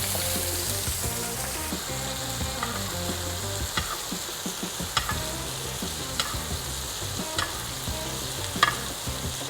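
Grouper fillet frying in butter in a pan, a continuous crackling sizzle with periodic sharp spatters and light stirring taps, no talk.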